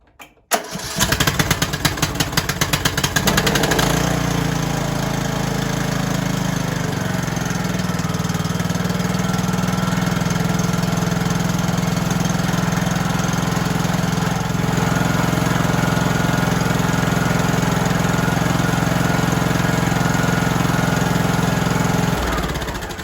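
A Craftsman LTS 2000 lawn tractor with a Briggs engine, newly fitted with a swapped carburetor, cranks and catches, then runs at a steady, loud, even idle for about twenty seconds before cutting off.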